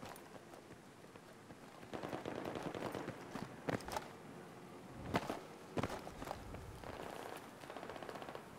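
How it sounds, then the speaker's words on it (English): Sniper rifle fire in Battlefield 3: several sharp, separated loud cracks ring out over steady background game noise and scattered smaller shots, fairly close, with no talking. "Now I'm getting sniped at."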